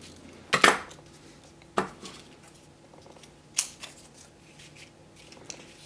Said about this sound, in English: We're just going to cut however we can, the shapes that we can cut